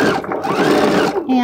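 A sewing machine backstitching along a jacket while replacing its zipper, a short close burst of fast mechanical whirring and needle chatter.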